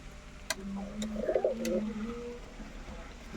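A Kashmiri duma pigeon gives a soft, close coo, with a few faint clicks around it.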